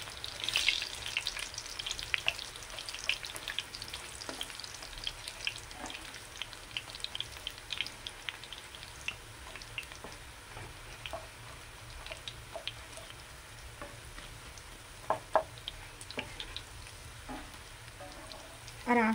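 Small batches of sweet boondi batter frying in hot oil, a soft continuous sizzle dotted with sharp crackles and pops at an irregular pace, fairly quiet and close with no talking.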